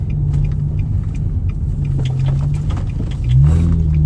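A car rolls through an apartment complex parking lot in South Jackson, Mississippi, its engine a steady low rumble close by that swells slightly near the end, with no talking.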